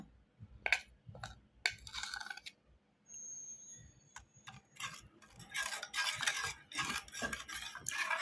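Turmeric and coriander spice pastes being mixed in a bowl with a spoon, giving close, quiet, irregular scraping and clinking strokes in short bursts separated by brief pauses.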